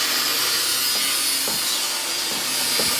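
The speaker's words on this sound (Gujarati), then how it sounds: "બંને સાઈડ ગ્રાઇન્ડર ચાલુ છે" A harsh, continuous high-pitched grinding roar from two angle grinders running during truck repair work fills the air, steady and loud, with occasional faint knocks beneath it.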